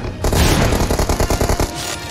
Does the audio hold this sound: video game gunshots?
yes